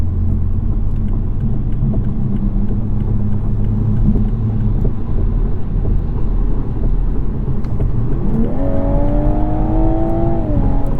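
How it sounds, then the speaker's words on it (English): A 2021 Toyota Supra 3.0 cruises on a concrete highway section, filling the cabin with steady, loud tyre and road roar and low rumble, with rising engine tones and passing traffic near the end; no one speaks. "this is a concrete section of highway, so it's a little loud"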